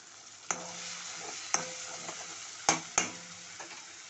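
Fish pieces fry over medium heat in a pan with a steady low sizzle, broken by four sharp scraping stir clatters spread irregularly across the short stretch, close and fairly quiet.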